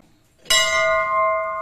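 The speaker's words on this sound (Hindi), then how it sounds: "बेबी को जहाँ घंटी छोटी दिखती है वहाँ पे बेबी बजा देती है अपने हाइट की" A small metal temple bell at a hilltop shrine is struck once, giving a sharp, bright clang that rings on with a clear, sustained tone close by.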